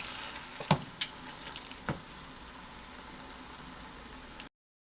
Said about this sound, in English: take the lid off, give it a stir